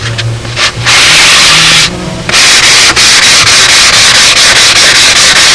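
Sandpaper rubs back and forth along the leading edge of a wooden wing rib on a Spitfire model, a loud, continuous abrasive scraping with brief pauses and a steady stroking rhythm, no voices.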